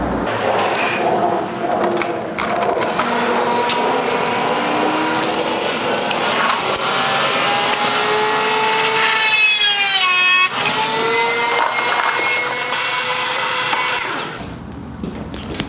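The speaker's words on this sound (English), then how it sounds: "So I'm going to use this small drill bit with my rotary tool, and I'm going to leave a small little divot." A small drill bit in a handheld rotary tool bores a divot into a dhol drum during mic installation, giving a steady high-pitched whine with shifting pitch that runs close and loud for most of the clip before cutting off near the end.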